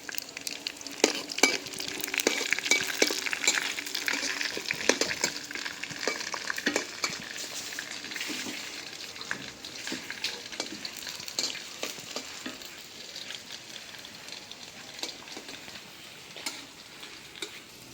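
A bay leaf and raw cumin seeds fry in hot oil for an eggplant curry, with a steady close sizzle and frequent small clinks of stirring that ease off slightly toward the end.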